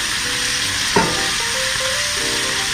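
Onions hit rendered bacon fat in a pot, releasing a loud, steady sizzle close by, with a brief thump as they drop in and light stirring afterward.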